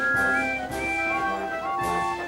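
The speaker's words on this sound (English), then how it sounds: "All three engines blew their whistles" Whistles from three steam engines in a cartoon train scene, a few sustained tonal blasts that overlap and swell, with short bursts of noise between them, loud and alone with no talking.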